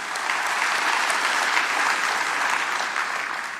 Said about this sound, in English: you can applaud yourself with your presence here